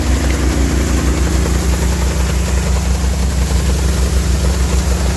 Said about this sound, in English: Woke this auger up.